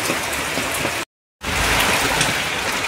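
Heavy rain falls continuously in a dense, steady hiss, loud and close, broken only by a short silent gap.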